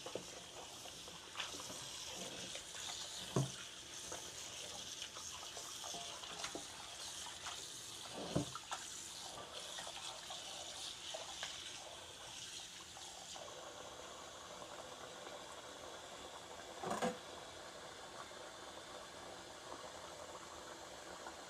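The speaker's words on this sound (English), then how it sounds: "Wash your meat before you eat." Water runs from a tap while chicken wings are washed, a faint steady splashing hiss with a few louder knocks and rattles scattered through it.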